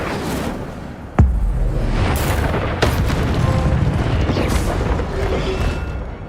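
An Incendio fire spell is cast in Hogwarts Legacy, bursting out as a loud sudden boom followed by a rushing roar and a few more thuds and crackles of game combat.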